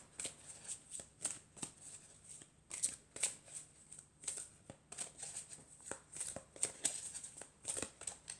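Tarot cards are handled, shuffled and drawn, close and quiet. Soft papery flicks and snaps come in irregular bursts, with brief pauses between them.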